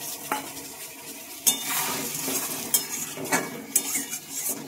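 Spice paste with a splash of water is stir-fried in a pan for a thin Bengali fish and bori curry, with a steady sizzle and repeated metal spatula scrapes and clanks against the pan, close up, no speech.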